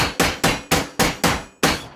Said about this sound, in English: you just bash it all together with a hammer